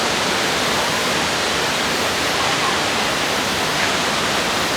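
Minnehaha Falls pours in a steady, broadband roar of falling water, constant and fairly loud, with no voices over it.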